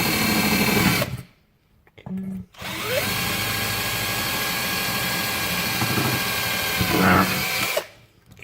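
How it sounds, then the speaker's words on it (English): A power drill bores bolt holes during an LED headlight retrofit on a 2006 Suzuki GS500F motorcycle, whining loudly and steadily in long runs, with brief pauses between bursts. "just drill these holes so I can put some bolts in there"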